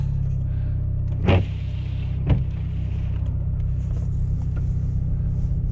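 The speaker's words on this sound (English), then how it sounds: "Taking my brand new car tires for a ride here." A car rolls on brand new tires with a steady low interior rumble and two sharp bumps or thumps from the road, with no voices.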